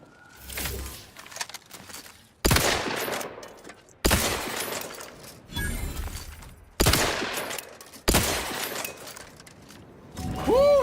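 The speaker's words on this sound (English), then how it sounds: "Firing down here." Heavy gunfire in The Outer Worlds 2 comes in several loud, crackling bursts about two seconds apart, each starting abruptly and tailing off. No one speaks over it.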